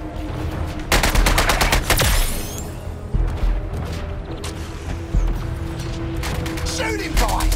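Rapid bursts of automatic gunfire and booming shots crackle through a chaotic Suicide Squad: Kill the Justice League battle, mixed with mechanical clanks and game sound effects. The shots come in dense clusters, and a voice shouts briefly among them.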